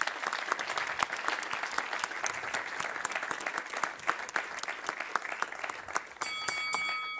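An audience at the Vodafone Power Lab 2022 startup pitch event applauds the jury members, a dense, sustained wash of clapping that holds steady for several seconds, with a brief bell-like chime near the end.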